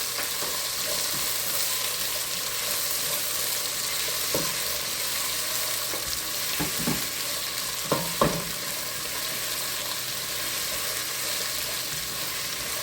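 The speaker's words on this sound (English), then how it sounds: "I am going to add my onions, celery, and my habanero pepper. And I'm going to give that a mix." Onions, celery and habanero pepper sizzle softly in a hot pot while being stirred for beef stew, a steady quiet frying hiss broken by a few scraping knocks of the spoon against the pot.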